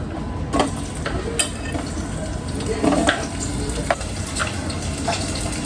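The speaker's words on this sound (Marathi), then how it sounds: "आता मी कांदा टाकून घेते याच्यात" Chopped onion goes into hot oil in a home kitchen while making methi bhaji, and it sizzles and fries steadily up close. Light stirring clicks and scrapes sound over the frying.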